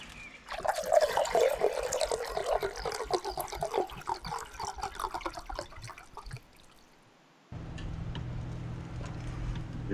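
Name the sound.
spraying apple vinegar mist on smoked pulled pork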